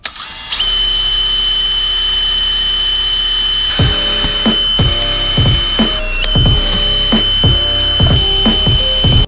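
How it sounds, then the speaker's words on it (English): A power drill boring pilot holes into a body kit front lip and side skirt on a Kia Stinger, with repeated short bursts of close, loud whirring and a steady background hum. "I got all the areas I want marked off where I'm gonna drill some pilot holes."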